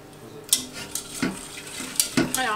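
A spoon stirs a small pot of milk, sugar and a vanilla pod heating toward a boil, with soft scraping strokes and a few sharp clinks of metal against the pot, quiet and close.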